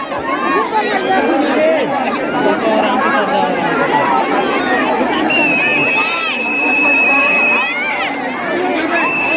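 A large, dense crowd at Pendri pond chatters and calls out continuously, with many overlapping voices and a steady, loud babble throughout.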